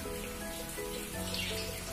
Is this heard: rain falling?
yes